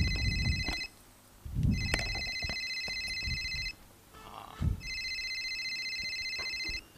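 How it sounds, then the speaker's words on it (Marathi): A telephone rings indoors in three repeated electronic bursts separated by short pauses, fairly faint, with a few knocks and rustles between the rings. "तो फोन वाजतोय हो."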